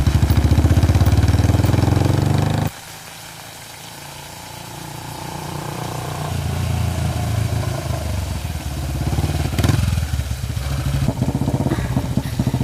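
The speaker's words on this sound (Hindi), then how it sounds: "तो चल बाइक पे बैठ, जल्दी चलो।" A motorcycle engine runs and idles in an outdoor setting; a loud, steady low rumble drops abruptly after a few seconds, then builds back into a sustained, throbbing hum with no speech.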